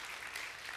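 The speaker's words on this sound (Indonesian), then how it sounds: "Berikan tepuk tangan buat Tuhan Yesus." Congregation applause in a church service, a steady wash of many hands clapping together at a moderate, slightly distant level with no break.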